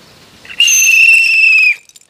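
A single loud, shrill whistle blast lasting about a second, close and clear, with brief faint sounds before and after.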